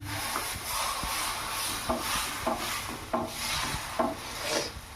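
A spoon stirs onion dosa batter with a spoonful of salt in a bowl, making close, rhythmic wet scraping strokes against the vessel, repeated about once a second with no voices.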